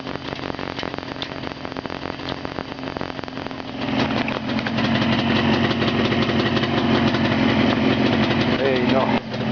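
A steady engine idles nearby with a constant low rumble, growing a bit louder and rougher partway through while a voice talks over it.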